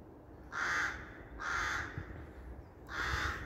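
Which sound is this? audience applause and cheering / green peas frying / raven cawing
raven cawing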